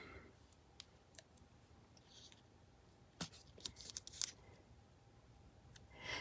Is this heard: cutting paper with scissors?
yes